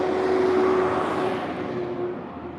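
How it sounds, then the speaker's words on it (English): A very loud truck rumbles past close by with a steady roaring engine and a faint whine that slowly fades, heard alone with no talk. "That truck, I don't know what the heck is wrong with it. That was really loud."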